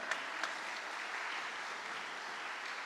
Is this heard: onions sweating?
no